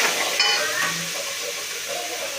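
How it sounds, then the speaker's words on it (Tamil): Biryani masala sautéed in ghee gives a steady frying sizzle with soft stirring scrapes, close and continuous, with no voices. "லைட்டாக கொஞ்சம் நெய் விட்டு வதக்கணும்"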